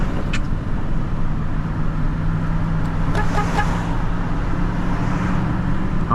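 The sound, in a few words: car horn honking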